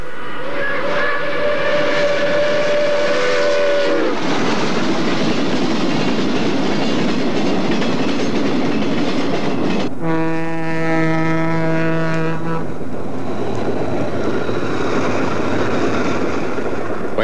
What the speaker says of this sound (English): The next three run pasts are the Pacemaker, the Advanced Commodore Vanderbilt,